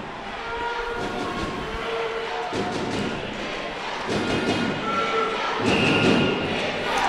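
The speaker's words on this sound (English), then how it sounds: "So the cries of Peter, ring out across the rink" Crowd noise fills an ice hockey rink during a Phantoms vs Hull Pirates game as a penalty shot is called, a steady dense roar that swells louder toward the end, with thuds and no clear speech.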